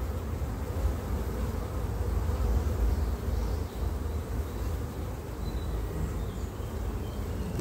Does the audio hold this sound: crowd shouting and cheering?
no